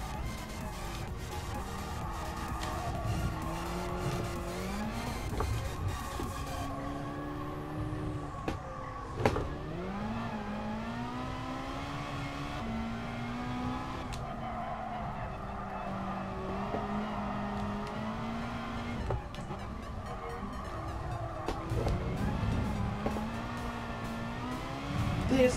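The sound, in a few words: race car engine and tires in Gran Turismo Sport video game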